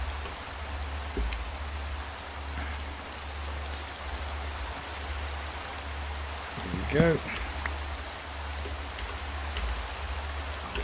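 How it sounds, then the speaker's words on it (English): Steady rain patters in Minecraft with an even hiss that runs the whole time, and someone says a few words near the middle. "Now rain should stop"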